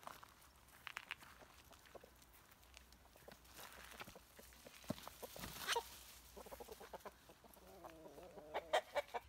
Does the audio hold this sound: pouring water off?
no